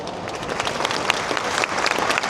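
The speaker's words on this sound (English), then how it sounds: "can we get a huge, huge round of applause, please, to welcome him here on stage" An audience at a caravan, camping and motorhome show applauds to welcome a speaker on stage. Dense, loud applause from a large crowd runs continuously and evenly for a couple of seconds.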